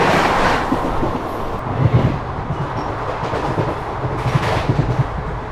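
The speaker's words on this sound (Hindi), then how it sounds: "Chennai central Nizamuddin Duronto express flat 130" The Chennai Central–Nizamuddin Duronto Express rushing past at 130 km/h, a loud steady rumble and roar with rhythmic clicking from the wheels, a sharp wash of air at the start, no voices.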